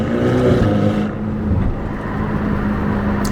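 Ferrari Portofino GT car's engine note dipping and picking up again as the transmission snaps through a paddle-shifted gear change, a steady loud drone heard from inside the cabin.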